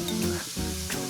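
Frozen bacon lardons hitting hot fat in a pan, a steady close sizzling hiss with a brief dip and resurgence, alone without talk.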